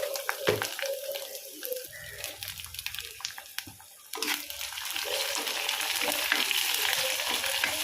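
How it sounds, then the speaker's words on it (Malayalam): Curry leaves, ginger, green chili, garlic and chopped onion sizzle and crackle in hot oil for a crab masala, with steady frying hiss and occasional stirring scrapes, close and continuous throughout. "ഇഞ്ചി പച്ചമുളക് വെളുത്തുള്ളി സവാള ചോപ്പ് ചെയ്തത് ആദ്യം ഒന്ന് മൂക്കട്ടെ"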